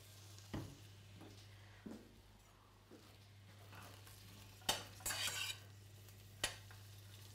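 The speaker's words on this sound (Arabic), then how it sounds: "بحركهم بتركهم شوي لتدبل البصله والثوم" Onion and garlic stirred in a pan of olive oil and frying oil, with a utensil scraping and clinking in scattered strokes over a faint sizzle and steady low hum, quiet and close, no talking.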